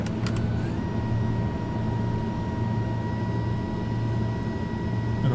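A Pilatus PC-12 climbs just after takeoff in Microsoft Flight Simulator 2020, its turboprop engine holding a steady, loud drone with a constant tonal whine throughout.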